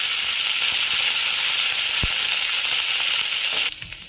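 Dal, small shallots, garlic cloves and a little ginger sauté in a hot pan, giving a continuous close hiss of frying with one soft knock midway before the sizzle cuts off near the end.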